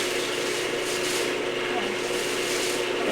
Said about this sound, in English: then we'll start the sanding process.